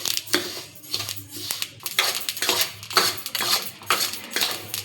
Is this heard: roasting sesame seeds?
yes